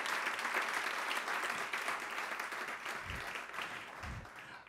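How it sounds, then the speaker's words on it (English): An audience at a welcome reception in Georgetown's Riggs Library applauds, sustained even clapping from a fairly large room that slowly tapers off, with a couple of low thumps near the end. "I usually don't get an applause"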